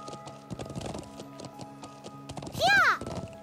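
Horse hooves clip-clop at a steady trotting pace in the role-playing game Trails of Cold Steel, a regular tapping rhythm under light game sounds, followed by a brief loud whinny near the end.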